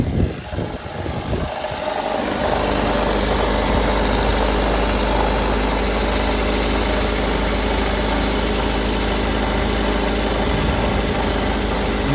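A 1998 Toyota RAV4 engine idling steadily just after being started following a fuel filter replacement, a continuous even drone that settles within the first two seconds and runs unbroken to the end.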